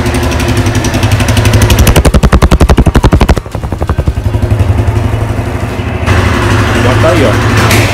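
A Honda Mix 150 motorcycle engine runs loud and close, first as a fast, even, pulsing idle, then with a brief dip before settling into a steady running drone.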